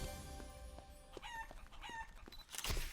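Chickens in a warehouse within a multiplayer video game tournament, with repeated short clucks and a crowing-like call over a busy background, no speech.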